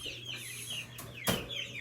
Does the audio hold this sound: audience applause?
no